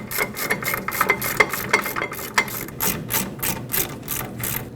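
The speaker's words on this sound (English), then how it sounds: "Once they're both in, we'll bottom them out and we'll torque them." A ratchet tightens the rear brake mounting bolts on a 2005–2021 Nissan Frontier, with a rapid run of close, crisp clicking pulses in an even rhythm, loud and steady with no talking.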